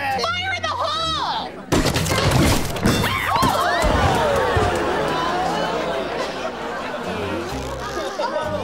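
A basketball launched from a trebuchet slams into a wall indoors, a sharp loud thud and clatter followed by a busy wash of rattling debris and crowd-like chatter that carries on to the end.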